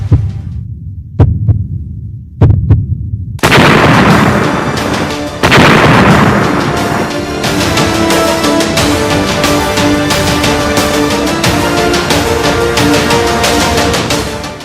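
A controlled remote detonation of roughly 8 kg of explosive packed in a tiffin box: several sharp booms in the first seconds, then a heavy blast at about 3.5 s followed by sustained loud rumbling, clatter and crowd-like commotion.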